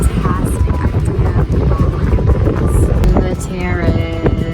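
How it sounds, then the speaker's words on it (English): Wind buffeting the microphone on a terrace in Greece, a steady loud rumbling roar throughout with a faint voice briefly under it. "And it's windy."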